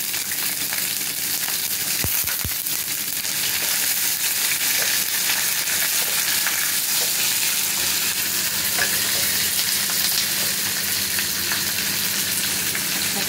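Potatoes fried red, then soaked chickpeas and peanuts added to the pan: a loud, dense sizzle with steady stirring and a couple of sharp clacks early on.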